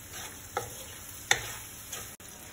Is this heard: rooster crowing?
no